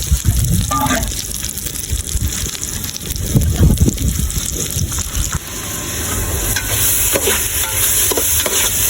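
Onions sauté in a hot pan with loud, close sizzling and scraping, and a voice speaks over it in the middle.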